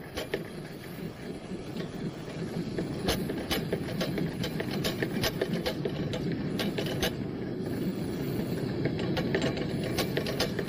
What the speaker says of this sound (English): and do 30 pumps.